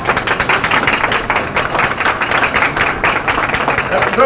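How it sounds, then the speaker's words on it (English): An audience claps steadily throughout, a dense continuous patter of many hands at moderate distance, mixed with some speech. "At Turner Construction, you hear clapping."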